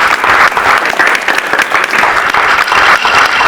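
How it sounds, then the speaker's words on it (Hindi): Steady, dense applause from a courtroom audience, loud and continuous throughout with no pauses and no speech over it. "ये लोग मेरे लिए नहीं ताली बजा रहे हैं, आपके हुनर की दाद दे रहे हैं।"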